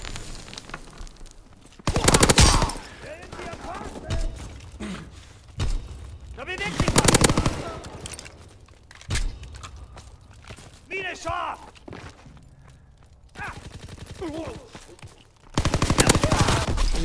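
Type 100 submachine gun fire in a WWII video game: several loud, rapid bursts spaced through the clip, with a player talking in between.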